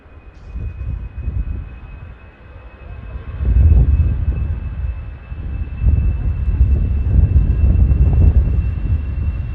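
An easyJet jet on its takeoff roll at Manchester Airport, a deep rumbling engine roar that swells in waves, rising sharply partway through and staying loud, with no voices.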